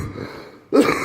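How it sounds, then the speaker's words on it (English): A single short cough, close and fairly loud, after a faint moment of quiet in an empty, echoey railway station. "Well, I coughed my guts up."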